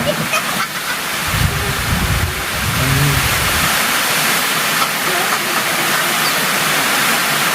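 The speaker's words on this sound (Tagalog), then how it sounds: "Garo may bagyo di?" Heavy rain pours during a storm, a loud, dense steady roar that runs throughout, with a brief low rumble and some faint voices early on under the downpour.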